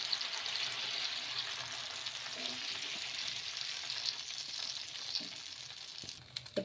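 Semiya and cabbage batter frying in oil on a hot pan, a steady loud sizzle with crackling throughout, a few scraping touches near the end.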